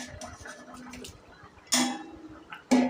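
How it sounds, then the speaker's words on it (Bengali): Fish pieces dropped into a pot of bottle gourd curry make two sharp splashing sizzles, the second near the end, over quiet kitchen clinks and low background noise. "এখন মাছগুলো দিয়ে দিচ্ছি"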